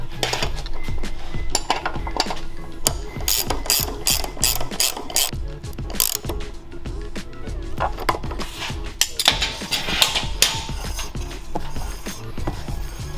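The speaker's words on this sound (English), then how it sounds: "you can go ahead and finish tightening up the axle" Rapid metallic clicking of a ratchet tightening the axle nut on a TrailMaster MB200 mini bike, working in quick bursts with small clinks of tools and parts, close up and with no talking.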